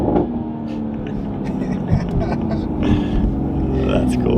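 Turbocharged Toyota Supra MK5 with a carbon fiber intake, engine revving with turbo whoosh and exhaust rumble, a close, continuous drone with a couple of sharper bursts.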